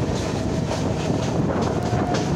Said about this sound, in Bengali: বনগাঁ লোকাল এত জোরে চলছিল